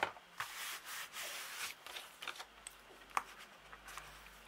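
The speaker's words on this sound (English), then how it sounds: "burnish. Make sure it's all nicely stuck down." Paper pages attached inside a mini album are burnished by hand, making soft, close rubbing and scraping strokes in short bursts with small taps, quiet and alone.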